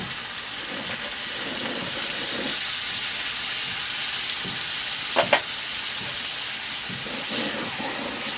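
Chicken pieces coated in masala and water being stirred in a kadai, a steady sizzle and frying hiss with a brief scrape of the spoon against the pan partway through.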